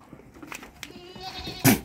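A goat in an Italian headlock feeder trough gives a single short bleat near the end, after a quiet stretch of faint barn background.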